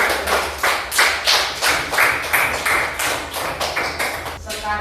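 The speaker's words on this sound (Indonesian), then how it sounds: "Tepuk tangan untuk Septi." Classroom of students clapping for a classmate, a steady, fairly close patter of hand claps with a rhythmic pulse, no talk over it.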